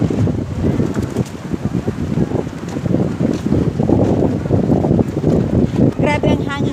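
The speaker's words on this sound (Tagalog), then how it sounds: "Grabe ang hangin guys" Strong seaside wind buffeting the microphone in a continuous loud roar with gusty low rumble, waves and open shore behind, while people talk underneath.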